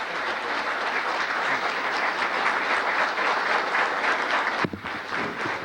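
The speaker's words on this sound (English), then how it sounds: "let's give a rousing applause to Jim Trafficant" A banquet audience at a restaurant gives a speaker, Jim Trafficant, a rousing round of applause, steady dense clapping throughout with a brief thump near the end.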